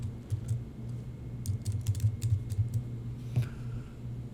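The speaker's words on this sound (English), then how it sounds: "you will type in the category that you wish to add" Fingers type on a computer keyboard in a quick, irregular run of soft clicks, close up and alone, with a short pause before a final keystroke.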